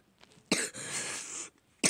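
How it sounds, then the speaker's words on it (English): Two sharp coughs from a person with a cold, close and fairly loud, with a short gap between them. "Stop coughing"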